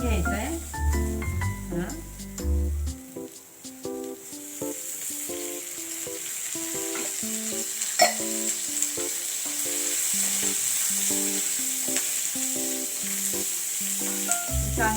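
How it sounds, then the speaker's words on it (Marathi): Steady sizzling of oil as beetroot and onion are sautéed for a bhaji, a continuous hissing fry with occasional stirring scrapes, heard beneath a melodic background music track. "तेल टाकून थोडंसं परतून घ्यायचं आहे."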